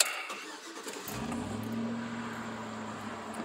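A car engine starts after a torque management tune: a brief starter crank, then the engine catches and settles into a steady idle hum, close and clear.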